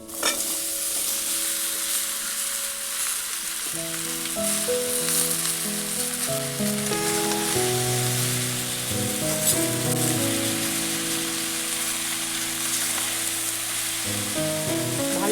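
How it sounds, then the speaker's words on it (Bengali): Ash gourd pieces stirred and fried with turmeric and spices in a pan: a continuous soft sizzle broken by repeated scraping and stirring strokes, steady and close, with no voices. "চাল কুমড়োটা মশলার সঙ্গে ভালো করে নেড়ে নেবো"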